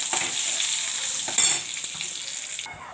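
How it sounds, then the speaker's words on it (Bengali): Dried chilli, bay leaf, fenugreek, radhuni and mustard seeds hit hot oil, giving a continuous close crackling sizzle with a sharp pop partway through. The hiss fades somewhat near the end. "ফোড়নটা হচ্ছে শুকনো লঙ্কা, তেজপাতা, রাঁধুনি, মেথি আর সর্ষে"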